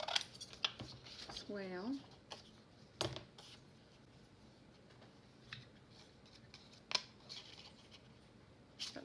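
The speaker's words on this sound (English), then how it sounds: "I'm going to cut one of these little circles out here" Scissors snip through old denim jeans while circles are cut out for junk journal tags, making quiet crisp clicks and scrapes scattered across the clip, with a voice speaking briefly near the start.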